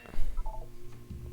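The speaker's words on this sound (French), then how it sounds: "Vous allez entendre une sonnerie." Chime tone in Portal 2: a short, clear electronic tone sounding alone, followed by a low hum.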